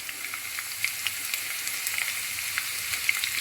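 Crushed ginger and garlic sizzle steadily in hot oil for a fish egg fry, a continuous hiss dotted with small pops and crackles, close by with no talking.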